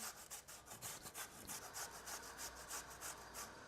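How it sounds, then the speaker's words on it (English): Raw beetroot rubbed against a grater over a rocket salad, a quick run of rhythmic rasping strokes, soft and close with no talking. "And we're just gonna grate this into the salad."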